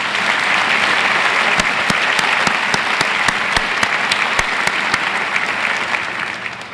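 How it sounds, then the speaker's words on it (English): A university audience at a State of the University address breaks into loud, sustained applause, with dense clapping and a few sharp, distinct claps standing out near the front before it slowly tapers. "Let's give them one more round of applause."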